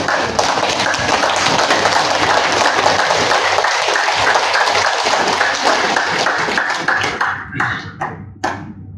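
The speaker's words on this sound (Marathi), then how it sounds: "ह्या टाळ्या आपण आपल्यासाठी वाजवल्या" A large audience at a community conference in Jalgaon applauds loudly and densely for several seconds, then the clapping thins to a few scattered claps before fading out.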